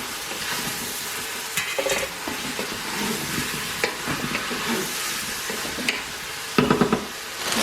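Freshly washed potatoes fry in a hot pan with a loud, steady sizzle and hiss, broken by a few sharper crackling bursts and utensil sounds as they are moved around.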